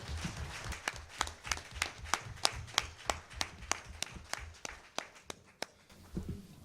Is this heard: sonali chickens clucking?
no